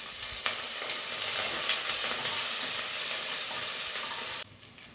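Onion, green chilies, garlic, dried red chili and curry leaves sizzle and hiss steadily in hot oil in a pan for a millet sambar rice dish, loud and continuous before cutting off near the end, with no talking.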